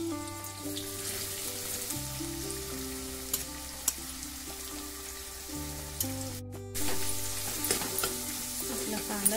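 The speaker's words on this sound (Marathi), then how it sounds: "आता आपण कांदा टाकणार आहोत, बारीक चिरलेला कांदा थोडा जास्त घेणार आहोत आपण" Finely chopped onion sizzling and frying steadily in a pan with garlic cloves, a continuous crackle with occasional stirring scrapes over soft background music, no speech.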